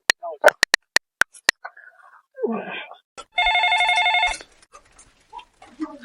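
A telephone rings with a sustained electronic trill after a few sharp clicks and brief voice-like sounds, loud and close.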